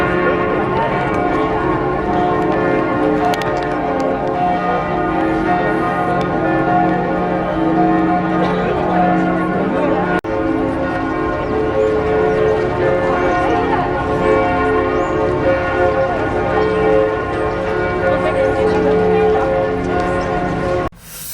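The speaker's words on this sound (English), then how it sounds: "the bells of Notre Dame are sounding" The bells of Notre Dame in Paris peal on and on, dense and loud, with overlapping tones that carry over city background noise for the whole stretch.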